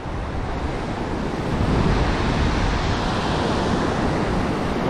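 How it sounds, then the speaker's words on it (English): Ocean waves break continuously on a sandy beach on the south part of an island, a loud, steady surf roar with wind buffeting the microphone. "Waves are definitely slightly bigger here"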